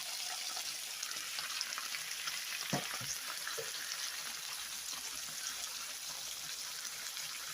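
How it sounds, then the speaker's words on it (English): Kielbasa sausage goes into smoking-hot grease in a pan, producing a steady, bright, crackling hiss throughout with a couple of brief utensil clinks. "I'm adding my sausage. The grease is already smoking."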